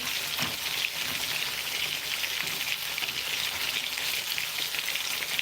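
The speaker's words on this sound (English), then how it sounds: "make sure that you are tossing. You are making the onions to caramelize nicely" Onions frying to caramelize for palmnut soup give a dense, even sizzle like light rain that runs without a break, with faint tossing underneath and no voices.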